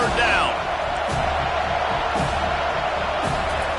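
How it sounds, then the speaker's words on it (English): Steady roar of a video game college football stadium crowd during a third-down defensive stand, a continuous dense wash of cheering with a brief whistle-like squeal near the start, loud throughout. "Decibels rising as the crowd gets behind this defense on third down"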